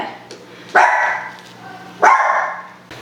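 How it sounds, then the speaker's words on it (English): A dog barks indoors in a home kitchen, two loud sharp barks about a second apart, close to the microphone, amid a person talking. "what are you barking at?"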